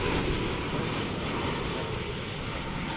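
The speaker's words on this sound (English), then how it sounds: "This is a Dreamliner, American 280 Heavy, arriving from Seoul" An American Airlines Boeing 787 Dreamliner arrives at Dallas/Fort Worth airport, its engines producing a loud, sustained broadband roar that stays even across the moment, with no voices present.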